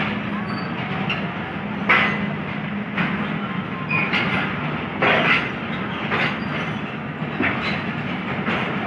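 Passenger train 115 Up running from Multan to Lahore in Pakistan, a loud continuous rumble of wheels on rails with rhythmic clickety-clack bursts roughly every second, heard from on board.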